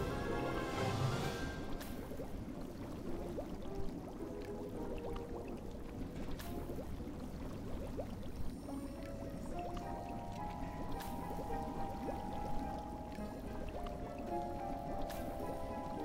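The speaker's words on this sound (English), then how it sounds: "I need to stir my cauldron." Bubbling, sloshing liquid stirred in a cauldron during potion brewing in the Hogwarts Mystery game, with occasional drips and pours running steadily beneath quiet tonal game music.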